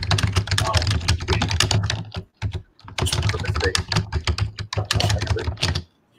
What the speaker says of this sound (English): Hear that mechanical keyboard going.